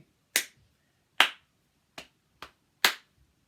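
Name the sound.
clapping rhythm for the Don't Clap This One Back game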